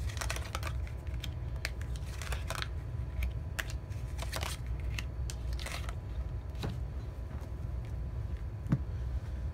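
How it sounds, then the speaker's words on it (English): Tarot cards are pulled from a deck in a series of close, light clicks and card snaps, irregular and crisp over a low steady background hum, with no speech. "I'm just going to pull a few cards."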